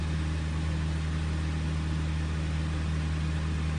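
An engine sound loop at 2000 RPM runs as an even, sustained drone with prominent low tonal hum and a faint higher whine, unchanging throughout with no talking.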